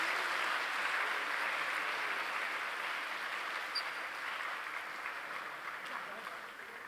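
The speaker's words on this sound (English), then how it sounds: "Let's give them another round of applause." Audience applause at the 2023 NCF-Envirothon oral presentations, thanking a presenting team; steady, fairly distant clapping from a large room fills the whole stretch, easing slightly toward the end.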